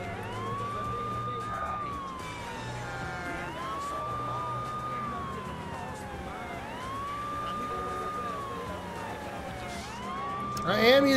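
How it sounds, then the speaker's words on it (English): A video game police siren in True Crime: New York City wails in long rising and falling cycles, steady and fairly close, with traffic rumble beneath and a louder burst at the end. "I am using the siren."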